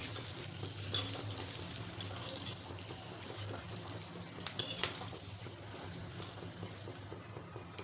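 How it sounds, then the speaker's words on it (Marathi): Cashews frying in oil for a fried poha chivda, a soft continuous sizzle and bubbling close by with a few light stirring clinks. "काजू पण लवकर तळतात"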